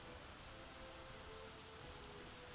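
Rain falling in the city-building game Workers and Resources, a dense, even hiss of steady rainfall filling the whole span, quiet and unbroken, with no voices.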